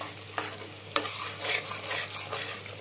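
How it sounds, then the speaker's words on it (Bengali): Spice paste for egg curry stirred and sautéed in a pan, soft sizzling under repeated spoon scrapes and a few sharper taps, fairly quiet and close with no talk. "এই তো আমি ডিমের তরকারি মশলাটা কষিয়ে নিচ্ছি"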